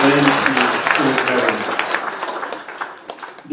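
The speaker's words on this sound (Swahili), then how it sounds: "Makofi mazuri ya mama akiketi, makofi mazuri" Applause from a crowd at a political gathering starts loud and fades over a few seconds, with a voice speaking over the clapping.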